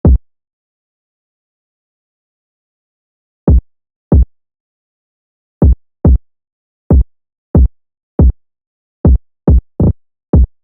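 A UK drill-style beat pattern of sparse, punchy low drum hits, tight thumps falling in an uneven syncopated rhythm with gaps between. It is dry, close and loud, with nothing else playing.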